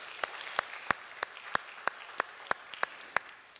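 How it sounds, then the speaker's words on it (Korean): At a church welcome service, the congregation claps in a slow, even rhythm, about a dozen distinct claps spaced evenly apart. The claps sound faint and distant against a quiet background. "다시 한번 서로에게 환영의 박수 한번 해주세요"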